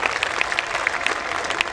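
Steady audience applause at a Hindi comedy poetry gathering, a dense continuous patter of many hands clapping with no pause throughout.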